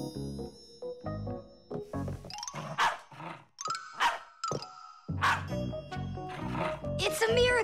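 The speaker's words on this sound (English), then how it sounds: "Chewsocka barks whenever she sees a Fixie around" A cartoon dog barks in a series of short, bright yelps mixed with musical tones and chimes, voices talking between the barks.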